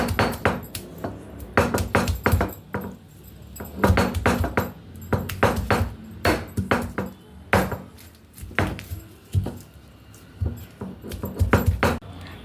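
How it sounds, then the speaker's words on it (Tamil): Garlic with its skin on being ground for rasam in a kitchen, a series of sharp irregular knocks and scrapes in uneven bursts, close and fairly loud with no voices. "அடுத்ததாக நான் பூண்டு வச்சு அரைக்க போகிறேன்."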